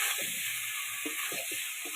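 Ground tender-coconut paste sizzles in a pan for egg malai curry with cauliflower, a steady moderate hiss under a series of soft, irregular stirring thuds and scrapes.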